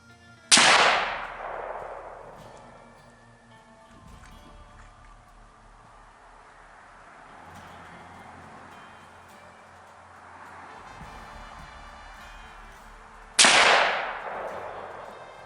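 A Ruger American rifle chambered in 350 Legend fires Federal Fusion 160 grain rounds at an outdoor range. Two loud, sharp shots land about thirteen seconds apart, each followed by a long rolling echo that slowly decays.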